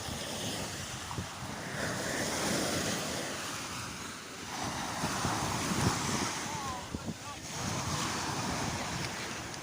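Surf rolls and washes continuously on a Black Sea beach at Düzce, Turkey, with gusty wind buffeting the microphone; voices murmur faintly underneath.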